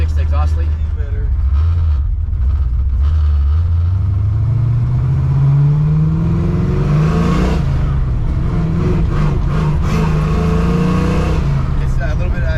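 A 1969 Camaro engine with a newly fixed exhaust leak rumbles loudly from inside the car on a test drive, revving up in a long rising pitch then easing off and surging again, with speech mixed in.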